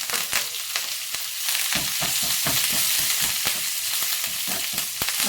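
Curry leaves sizzle and crackle in hot oil in a home kitchen, a loud continuous fry with sharp popping spatters spread throughout and no talk.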